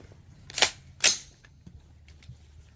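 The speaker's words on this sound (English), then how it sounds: "we're gonna take some quick 300-yard shots" Two sharp rifle shots from a 16-inch 5.56 AR-15 upper firing 55-grain .223 PMC at targets 300 yards away, spaced about half a second apart, each a loud crack with a short decay over quiet outdoor background.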